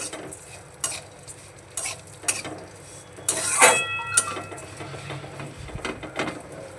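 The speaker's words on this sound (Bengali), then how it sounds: "এই সিমুইটাও এখানে খুব ভালো করে ভেজে নিতে হবে" Dry vermicelli (semai) is fried in a pan and stirred with a utensil, giving scattered scraping and clattering strokes over a faint sizzle, with one sharper metallic scrape in the middle.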